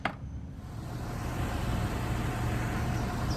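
A 2012 Dodge Charger engine idling after both fuel pumps were replaced, a steady close rumble that holds evenly throughout, following a brief click at the start.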